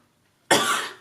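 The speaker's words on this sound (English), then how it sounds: "I'm trying not to cough on camera" A single loud, close cough from a woman who is ill, a harsh, breathy burst that starts abruptly after a short silence and trails off within half a second.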